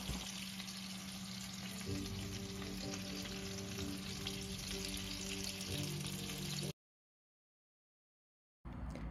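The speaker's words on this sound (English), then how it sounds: "Remove meatballs when browned." Swedish meatballs brown in a frying pan with a loud, steady sizzle and a faint hum beneath, cutting out abruptly near the end before returning briefly.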